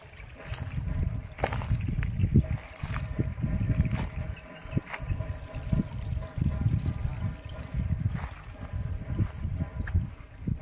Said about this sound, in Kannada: ಗ್ರಾವಿಟಿ ವಾಟ್ರು ವರ್ಷ ಪೂರ್ತಿ ಹರಿಯುತ್ತೆ 24/7